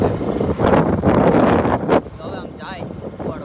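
Strong outdoor wind buffets the microphone in loud rumbling gusts for about two seconds, then eases off, while a voice speaks over it.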